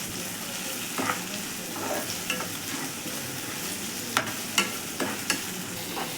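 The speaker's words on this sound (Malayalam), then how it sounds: "ആ തക്കാളി ഇതിലേക്ക് ആഡ് ചെയ്യുക. അതിൽ നന്നായിട്ട് വഴറ്റി കൊടുക്കുക." Tomato and onion sautéing together in a pan with ginger, garlic and curry leaves, a steady close sizzle broken by several sharp scrapes and stirs of a spoon against the pan, with no voices.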